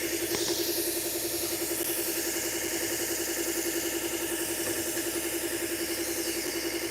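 Knife sharpening on a belt grinder running a 120 grit belt at 2,000 RPM, edge leading, a loud continuous motor drone with a steady grinding buzz throughout, no pauses and no talking.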